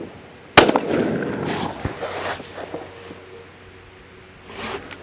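Antique English shotgun fires a 2.5-inch shell in a single sharp, loud blast outdoors, followed by fading rustles and handling noise.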